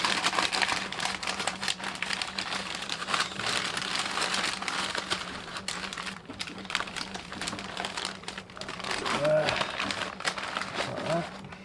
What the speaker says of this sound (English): The problem is with butcher's paper, it's very hard to manoeuvre into the shape that you want it to go into